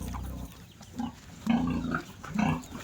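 Pigs kept as livestock on a rural Philippine farm grunt and oink nearby in several short bursts, the louder calls coming toward the end.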